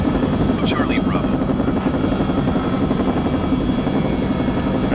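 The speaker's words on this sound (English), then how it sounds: "the sounds and the immersion that FSRealistic brings to flying a helicopter" Helicopter in Microsoft Flight Simulator 2020 with the FSRealistic immersion add-on, a loud continuous rotor chop and turbine whine heard close up from the cockpit, steady throughout with no talk.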